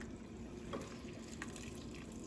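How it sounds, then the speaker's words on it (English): Water drips and trickles off pasta lifted from a pot with tongs, soft close splashes and dribbles falling back into the pot, faint and irregular with no talking. "So I'm gonna take with my tongs all of our pasta out of here."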